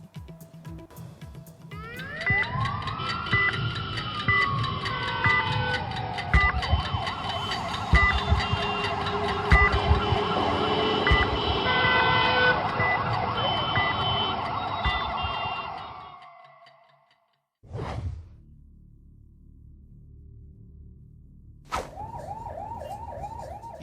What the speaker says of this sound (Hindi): ये एम्बुलेंस लाल बहादुर शास्त्री हॉस्पिटल के लेबर रूम से एक मरीज को लेकर एलएनजेपी अस्पताल जा रही है